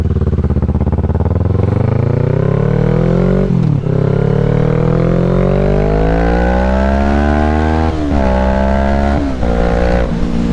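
A motorcycle ridden on a cold day, its engine loud and close, climbing steadily in pitch through the gears with brief dips at each shift, running continuously with no voices.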